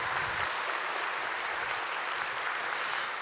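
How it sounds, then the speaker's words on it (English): Graduates applauding themselves at a 2019 college commencement, a continuous, even roar of many hands clapping that holds steady for about three seconds at moderate loudness. "you should clap for yourselves"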